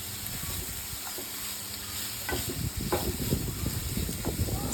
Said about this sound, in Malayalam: വെളിച്ചെണ്ണ ചൂടായാൽ 2 മീഡിയം സൈസ് സവാള കനം കുറച്ച് അരിഞ്ഞത് ആഡ് ചെയ്യാം